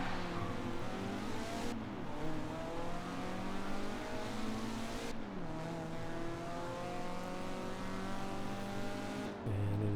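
A stock, unmodified car laps a test track in Forza Horizon 4, its engine droning loudly and steadily as the note climbs and drops back through three gear changes, with no talking.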